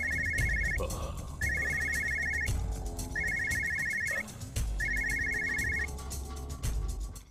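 A telephone bell rings in four repeated bursts, each about a second long with short gaps, loud over a steady low background hum in a tense film scene.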